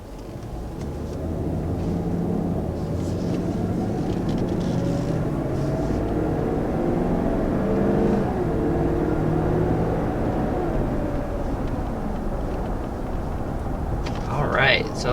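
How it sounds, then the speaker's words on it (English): A 2020 Lexus LX 570 SUV pulls away from a start, its engine a steady low rumble that swells gradually from inside the cabin, with someone talking over it. "So first taking off here in the 2020 Lexus LX 570."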